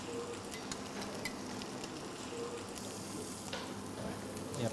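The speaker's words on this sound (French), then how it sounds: "je vais les faire colorer sur une face" Scallops searing in a hot pan give a steady, dense sizzle that holds close and even throughout, with a few faint crackles and no voices.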